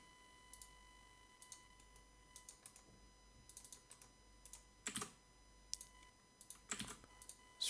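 Typing on a computer keyboard, heard as quiet, irregular clicks of keystrokes that come in short bursts with brief pauses, a few sharper taps standing out near the end.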